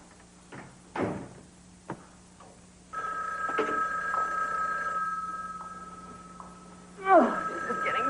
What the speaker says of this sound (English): Answer the phone if it rings, huh?